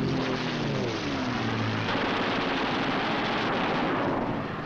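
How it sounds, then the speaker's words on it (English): Eight machine guns of a P-47 Thunderbolt fighter firing in a loud, continuous roaring burst with heavy aircraft engine noise throughout, a low droning tone fading early on. "With the touch of the finger on the stick, a camera and 8 machine guns are put into action"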